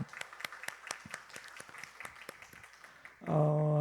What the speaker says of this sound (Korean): 우리 박수로 감사를 표하겠습니다